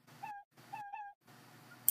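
Three short cat meows from the video game Endacopia, evenly spaced across a couple of seconds, fairly quiet and with no talking over them.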